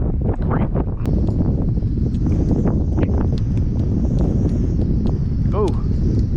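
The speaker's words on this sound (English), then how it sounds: "This is very uncomfortable wind, guys." Strong wind gusts across the water during early spring pre-spawn bass fishing make a loud, steady low rumble and buffeting that runs through the whole stretch, with some brief sounds that may be a voice under it.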